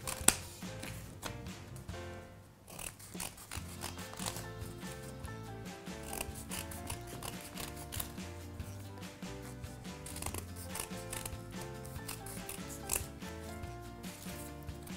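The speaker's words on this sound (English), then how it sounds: "So I'm just going to cut some crescent shapes out" Scissors snipping crescent shapes out of paper for a bird mask, a rapid irregular series of close, crisp cuts and rustles continuing throughout with a brief pause early on.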